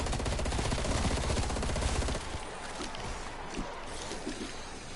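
Rapid automatic fire from an FFAR rifle in Call of Duty Cold War Zombies, a dense unbroken burst for about two seconds that then cuts off, leaving faint game ambience.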